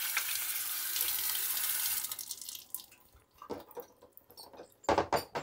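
A kitchen tap runs loudly into a sink as hands are rinsed under it, a steady rushing stream for about two seconds, then broken splashes and intermittent bursts of water as the hands move in and out of the flow.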